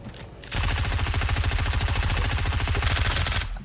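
Rapid automatic AK rifle fire in a video game, a sustained loud burst of closely spaced shots lasting about three seconds, with quieter game sound before and after.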